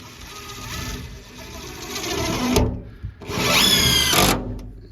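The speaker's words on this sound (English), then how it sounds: "we're putting screws in the sides where the the long sides are. So they're actually doing that right now." A power drill drives screws into the wooden sides of a garden raised bed in two long, loud, close whirring runs, split by a brief pause.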